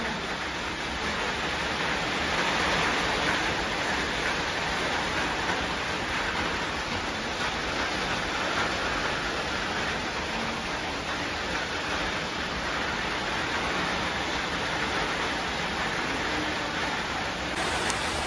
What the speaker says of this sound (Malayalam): നല്ല മഴ ഇങ്ങനെ പെയ്ത് തുടങ്ങുന്നുണ്ട്.